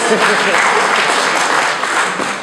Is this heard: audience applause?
yes